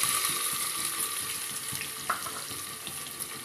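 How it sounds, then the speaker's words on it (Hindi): Ginger and onion frying in very hot oil, a constant bright hiss of sizzling with faint occasional pops, steady and fairly quiet throughout. "तेल तेज़ गरम है ना तो इसी हाथ हम प्याज भी डाल देंगे"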